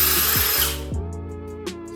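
A Bosch GSB18V EC cordless impact drill whirs loudly at high speed, then stops and its motor winds down with a falling pitch, leaving faint clicks and residual hum.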